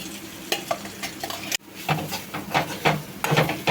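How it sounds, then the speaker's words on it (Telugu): Coconut chutney being stirred while it fries in a pan with curry leaves and turmeric, a steady close scraping-and-sizzle rhythm with a brief break midway, no talking. "అడుగు అంటకుండా ఇట్లా కలదిప్పుకోవాలి."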